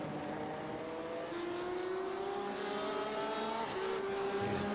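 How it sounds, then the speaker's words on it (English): Porsche and BMW race cars sweep through the carousel corner on a racing circuit, engines droning and rising in pitch as they accelerate, close and loud, one car's tone climbing over the other's. "Porsche leading a BMW down into the carousel."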